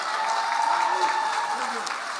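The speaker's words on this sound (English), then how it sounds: "Give him a round of applause" Audience applause for a governor at a Democratic primary forum, a steady dense wash of clapping holding evenly for a couple of seconds.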